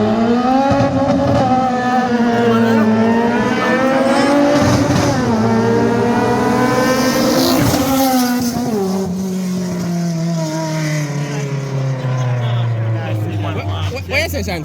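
Turbocharged 4AGE and 2ZZ-GE race cars rev loudly at a late-night street race in Jamaica, with engine pitch repeatedly climbing and dropping as the throttle is blipped, while voices carry on underneath.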